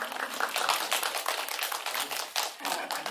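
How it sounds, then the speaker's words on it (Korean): Light, scattered applause fills a film screening hall, a dense patter of hands at moderate distance, lasting a few seconds without voices. "여기 앞에서 박수 치셔가지고."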